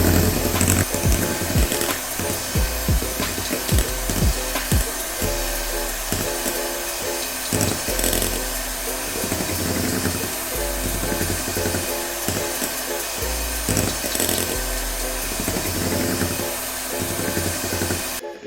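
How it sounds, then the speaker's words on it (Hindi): A hand mixer steadily beats a chocolate ice cream mixture flavored with chocolate essence, a continuous loud motor whir with rattling and scraping against the bowl, no talking. "अब इसे फिर बीट करेंगे।"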